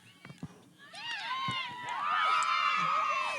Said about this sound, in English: As you hear in the background, the West team cheering their team on here today at High School East.